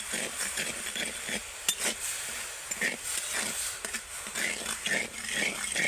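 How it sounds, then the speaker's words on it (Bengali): Sugar stirred into half a bowl of water in a bowl to dissolve it while making orange barfi, a steady scraping and clinking of a spoon against the bowl repeating throughout, close and moderately loud with no talking. "এবার আমি এই জলের মধ্যে চিনিটাকে ভালো করে গলিয়ে নেব"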